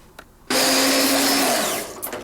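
A kitchen blender in a 1981 film scene switches on abruptly and whirs loudly at a steady pitch for over a second, then winds down, with faint clatter before and after.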